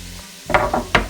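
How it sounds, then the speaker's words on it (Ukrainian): Onions fry in a hot pan while a utensil stirs, making a few short scraping clatters over the steady hiss. "Висипаємо і починаємо смажити до золотистого кольору."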